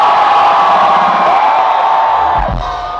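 A concert crowd at a live band show on a university campus in San Diego cheers and screams loudly and continuously, a dense roar of shouts and whoops that fades a little near the end.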